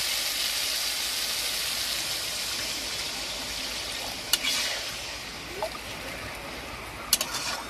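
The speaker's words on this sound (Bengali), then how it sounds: "এবার আমি জল দিয়ে দিচ্ছি।" Water poured into a pan of yogurt-based katla fish curry, a steady close rushing stream over a faint sizzle, with a few brief clinks near the end.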